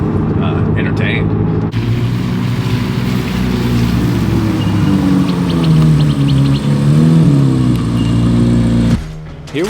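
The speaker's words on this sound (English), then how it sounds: "The engine tone has really kept me" A Chevrolet Corvette C8 Z06 drives along with a steady engine and exhaust drone, its pitch rising and falling with throttle changes, heard from inside the car under a voice talking.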